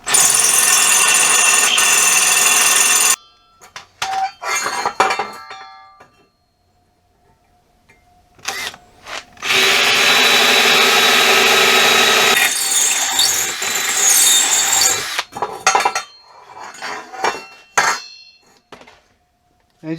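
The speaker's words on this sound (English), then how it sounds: "I found the best way to drill these out is with the hand drill" A hand drill bores holes through homemade tree climbing sticks, with long loud grinding bursts broken by pauses, short clatters and shorter drilling runs, close up and with no talk.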